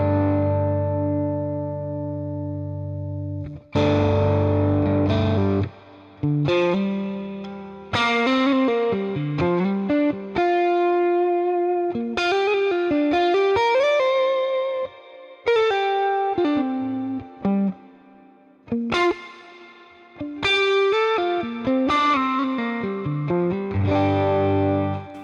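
Electric guitar played through a Fender Deluxe Reverb amp model, warm and reverb-laden, single-note melodic lines and sustained chords with pauses between phrases, clear and up front.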